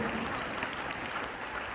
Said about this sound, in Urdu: پہلے زوردار تالیاں بجائیے اس مسیح کے لیے